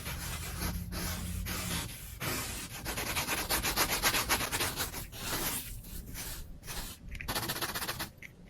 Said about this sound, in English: use a clean soft brush to gently remove the excess gold leaf, revealing your beautiful gilded calligraphy